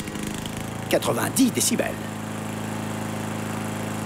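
A lawn mower engine drones steadily at moderate loudness throughout, while a voice speaks briefly over it near the start.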